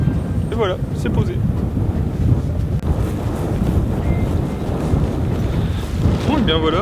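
Outdoor wind buffets a microphone in a continuous low rumbling roar, loud and close, with a voice briefly heard near the start and again near the end.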